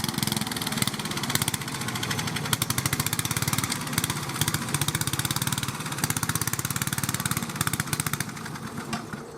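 A Briggs and Stratton small engine chugs close and loud with a rapid pulsing beat, its rhythm wavering and stumbling as it runs rough toward dying.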